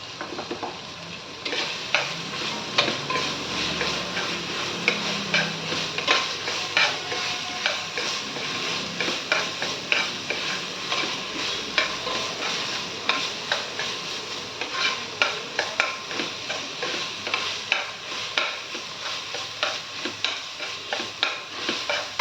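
Green chillies fry in hot oil for a chicken curry, a steady close sizzle broken by regular scraping and clinking of a spoon stirring the pan, no voices.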